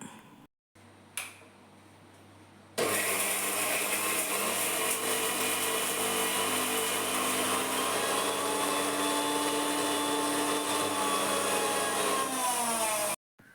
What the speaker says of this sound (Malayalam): അപ്പം നമുക്ക് മിക്സിയിൽ ചമ്മന്തി അരച്ചെടുക്കാം